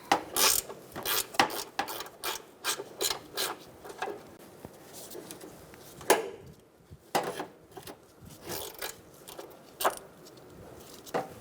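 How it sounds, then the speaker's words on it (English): A ratchet with a 10mm socket removing a bolt while replacing the windshield washer reservoir on a 2002-2006 Honda CR-V, heard as close, repeated clicking and metallic rattling in short bursts, with no talking. "using a 10mm socket, we're going to take out this bolt."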